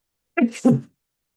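A single close, sharp sneeze in two quick bursts, followed by silence.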